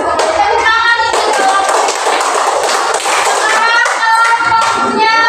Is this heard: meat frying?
no